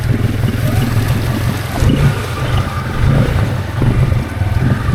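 A Can-Am Outlander G3 ATV with fly-by-wire throttle revs hard while stuck in thick swamp weeds, a loud rough engine roar that surges and falls with the throttle, close by and without talk.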